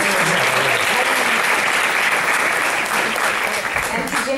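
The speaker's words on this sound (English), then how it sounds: "If we could have a round of applause for serving as our master." Sustained audience applause fills a luncheon hall, steady and dense throughout, with faint voices mixed in near the start.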